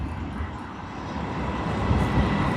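Airbus A380 airliner at Sydney Airport, a steady broad engine roar heard from a distance that swells slightly toward the end, no voices.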